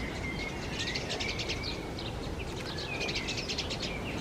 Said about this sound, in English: You can hear the sparrows making a big racket there.